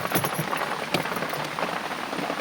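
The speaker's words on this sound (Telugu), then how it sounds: "చూడ ఎట్టుందా వర్షం పడుతా ఉంది" Rain falls steadily at night in a garden, dense pattering drops on leaves and surfaces filling the scene with a continuous hiss, a few sharper drips standing out near the start.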